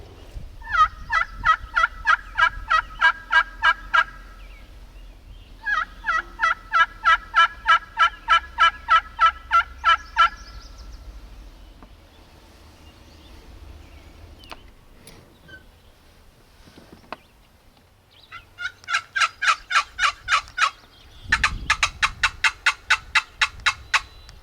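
A wild turkey gobbles in spring woods during turkey season, with several loud, rapid rattling bursts separated by short quiet gaps and one final gobble ringing out near the end.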